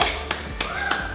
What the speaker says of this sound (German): Da klatschen sogar meine Mitbewohnerinnen aus dem Zimmer.